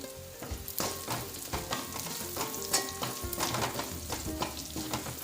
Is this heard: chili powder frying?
yes